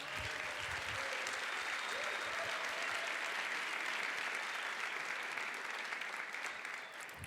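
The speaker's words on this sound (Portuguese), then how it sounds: "Dá uma salva de palmas para Jesus" A church congregation applauding during a sermon: sustained, fairly distant group clapping that holds evenly throughout and fades slightly near the end.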